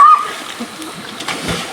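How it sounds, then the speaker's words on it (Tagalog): People splash while swimming in a deep river, with brief close sloshes and splatters scattered under faint voices and a short whistle-like tone at the start. "maliligo po kami ngayon sa ilog"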